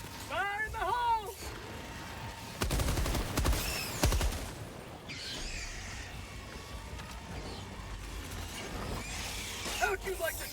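Bursts of gunfire and heavy blasts from a grenade exploding in the video game Helldivers 2, dense rattling shots layered over a constant rumble, with voices shouting over the combat.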